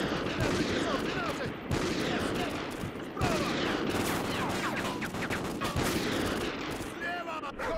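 Gunfire in the Call of Duty Ghosts campaign, dense bursts of shots crackling continuously through the whole stretch, loud and close, with brief lulls and sharp restarts, no talking over it.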